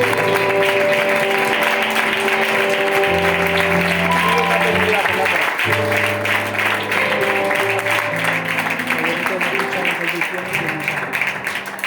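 Church congregation clapping in praise during a Spanish-language service, a steady wash of hands over loud sustained music with held chords and voices throughout.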